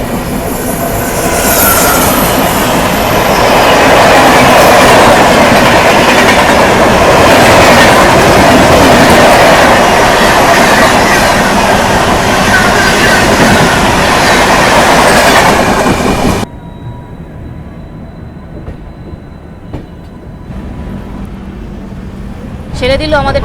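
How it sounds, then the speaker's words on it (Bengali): A passenger train, the Howrah–Tiruchirappalli Express number 12663, pulls out of Kharagpur station with a loud, steady clickety-clack of wheels and carriage rumble. The noise drops sharply to a quieter hum for the last several seconds. "ছেড়ে দিল আমাদের ট্রেন খড়গপুর স্টেশন থেকে।"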